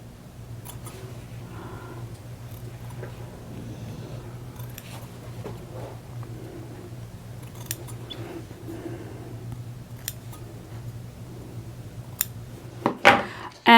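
Scissors snip through sewing fabric for a skirt facing in a few quiet, close cuts, with faint rustling of cloth and a soft low hum beneath, mostly without talk.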